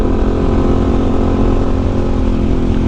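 A Honda NS200 motorcycle on a test ride in Albay, Bicol, its engine droning steadily and loudly with no break, a dense continuous roar that neither fades nor rises.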